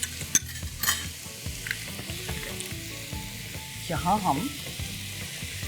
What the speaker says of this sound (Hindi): नाउ एग्स को हम पकाएंगे लिटिल बिट मोर मार्जरीन में।